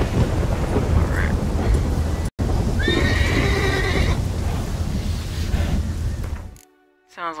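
Roach, Geralt's horse in The Witcher 3, lets out a clear whinny in the middle of steady game noise that includes rain and thunder. The neigh is loud and close, and the ambience cuts off sharply near the end.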